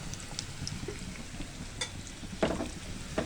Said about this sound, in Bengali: এগুলো ভাজা ভাজা হয়ে যাবে